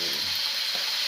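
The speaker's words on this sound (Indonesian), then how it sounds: "temani temanku goreng ikan" Fish frying in a pan gives a steady, close sizzle with constant bright crackle and no talk throughout.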